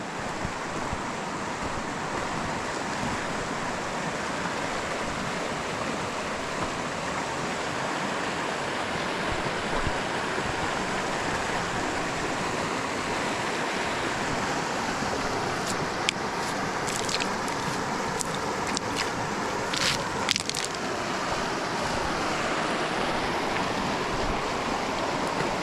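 The River Allen flows past boulders in a steady, full rushing wash, an even broadband roar that holds unbroken from start to finish, with faint clicks near the end.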